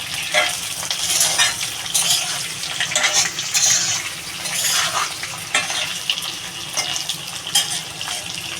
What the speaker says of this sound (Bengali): আমার আলু আর সজনে ডাঁটাও প্রায় ভাজা হয়ে গেছে